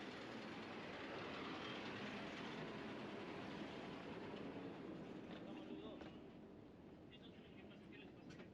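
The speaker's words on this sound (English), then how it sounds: "Here is the GoPro video of that train coming in." A train rolling in along the tracks at the end-of-the-world railway, recorded from track level, a steady loud rumble of wheels and cars that fades a little near the end.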